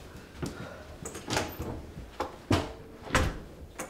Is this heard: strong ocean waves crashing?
no